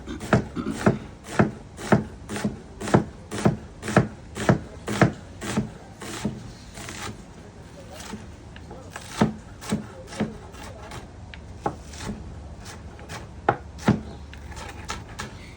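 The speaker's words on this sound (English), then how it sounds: "So we're gonna just cut this up." Onions being chopped on a board for Jamaican stew peas, heard as rapid, regular knife strikes that are close and crisp at first, then slower and more scattered cuts that continue to the end.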